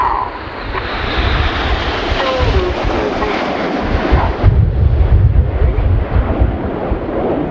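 Red Arrows jet aircraft in Concorde formation at the RIAT 2019 air display pass overhead with a loud, continuous roar that swells and builds toward the end, heard alone without talk.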